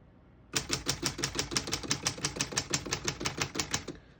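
Rapid, steady keystrokes clack on a 1935 Corona Sterling portable typewriter, about twenty crisp close-up strikes in an even rhythm, with no talking.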